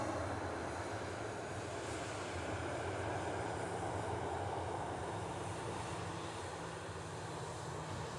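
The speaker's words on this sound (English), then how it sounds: "another arrival coming in as well in the form of a Lufthansa Airbus A320 coming in from Frankfurt" A Lufthansa Airbus A320 arriving from Frankfurt, heard as a steady, faint, broadband jet roar from a distance at an airport, unchanging throughout.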